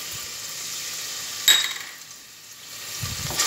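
Onion and garlic sizzling in melted butter and olive oil, a soft steady frying hiss with a sharp clink partway through and a low knock near the end.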